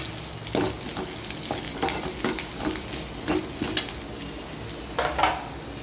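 Small onions, dried red chillies and asafoetida sizzle steadily in a hot pan while a utensil stirs and scrapes now and then, close and moderately loud.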